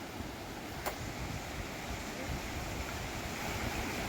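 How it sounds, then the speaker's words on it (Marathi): Vajrai waterfall, the tallest in Maharashtra, gives off a constant, dense roar of falling water, steady and loud with no other sound standing out. "महाराष्ट्रातील सर्वात उंच धबधबा बघू शकता वज्राई धबधबा"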